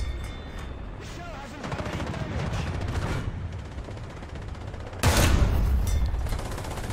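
Tank guns fire in War Thunder during a battle with British tanks, a dense rumbling barrage of shots and booms with a heavy blast near the end, while a voice talks excitedly over the combat.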